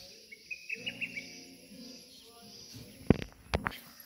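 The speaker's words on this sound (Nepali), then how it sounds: "चराको आवाज सुन्नुहोस्" Birds chirp faintly outdoors in short, scattered calls over a quiet background hum, with a couple of louder sharp sounds near the end.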